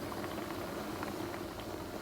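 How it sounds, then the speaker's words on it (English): Water boiling in a pot of moi moi, a soft, steady bubbling and hissing simmer heard close but quiet, continuous throughout with no talking. "you can hear the sound of the boiling water"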